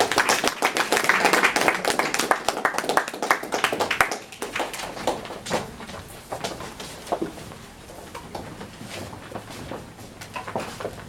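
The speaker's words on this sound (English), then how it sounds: "Brother Artez, a round of applause for charity." Dense clapping from a congregation at a religious gathering, loud and close for about four seconds before thinning into scattered, fading claps with light background murmur.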